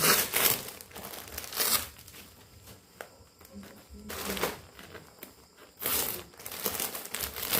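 Plastic package of team t-shirts being opened by hand, with loud crinkling and tearing bursts separated by quieter rustling, close up and without clear talk.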